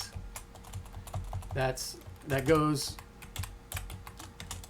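Keys clatter steadily on a computer keyboard while someone enters a stretch of text in a code editor, the tapping running under a man's brief spoken words.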